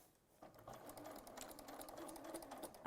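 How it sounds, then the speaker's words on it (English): A sewing machine hums in a steady, fast run of stitches as it sews around the edge of a fabric flower through two layers, quiet and close with a soft mechanical patter. "I'm just literally sewing around the edge of the flower through both layers of fabric"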